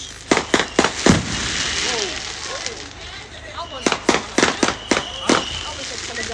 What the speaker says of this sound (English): After the fireworks.